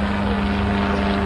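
A B-25 bomber taxiing, its propeller engines droning steadily with a strong low hum, loud and close for a brief moment with no talk.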